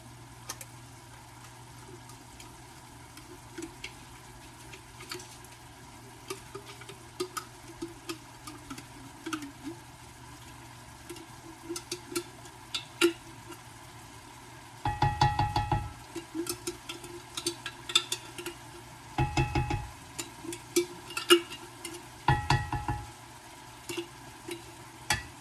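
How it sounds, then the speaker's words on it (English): Taco ingredients tipped into a hot pan, bursting into loud sizzling and frying in several heavy surges over a steady kitchen hum, with stirring clatter and softer crackle in between. "I'm just going to dump these into a pan"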